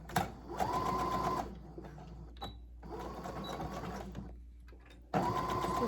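A sewing machine runs a straight stitch along the hem of a handmade angel, in two loud steady bursts with a pause between and a third starting at the end, close up and without talk.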